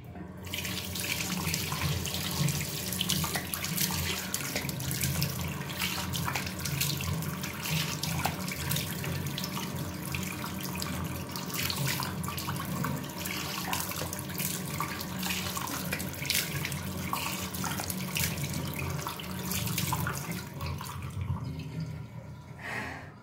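Tap water runs steadily into a sink while a face mask is washed off, a constant close splashing flow with occasional drips and hand-splash variations, no talking heard.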